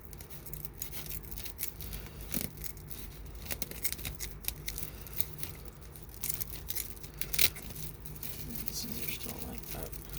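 Scissors snip and crunch through material coated in sticky brown smoke residue in scattered cuts, close and quiet, with soft rustling between cuts.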